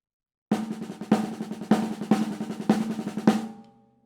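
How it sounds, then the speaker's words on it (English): A drum plays a paradiddle-diddle sticking pattern, six accented strokes with softer taps between, evenly spaced and close, ending with a short ring. "paradiddle diddle, paradiddle diddle, paradiddle, paradiddle diddle,"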